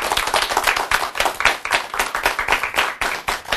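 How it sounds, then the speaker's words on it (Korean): A lecture audience welcomes a speaker with lively clapping, the individual hand claps distinct and rapid, close and fairly loud, pulsing unevenly but continuously for a few seconds. "큰 박수로 맞아주시기 바랍니다."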